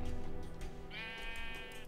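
A sheep bleats in Minecraft, one drawn-out wavering bleat rising over a busy low game background, fairly close and clear.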